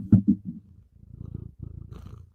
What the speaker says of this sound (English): You can hear Tucker purring.